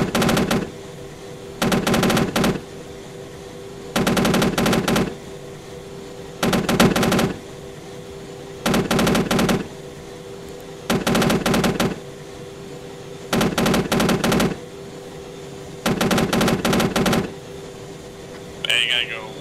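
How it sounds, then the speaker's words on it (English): An AH-64D Apache's cannon fires in about eight evenly spaced bursts, each a loud rapid chatter of roughly a second, with steady rotor and engine drone between them inside a flight simulator game. "I'm gonna engage with guns."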